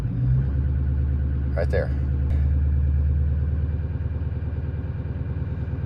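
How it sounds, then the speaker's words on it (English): Diesel engine with 343,000 miles, never taken apart, idling steadily with its idle raised slightly; a continuous low rumble with light clatter runs close and loud throughout while someone talks over it. "If I take the idle up just a little,"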